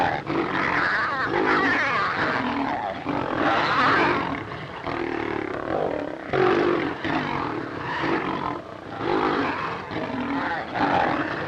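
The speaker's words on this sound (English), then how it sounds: "Then they met in a death struggle in midair." A lion and a tiger roar and snarl continuously in a loud, close fight in a 1933 film, with deep growls swelling and overlapping throughout.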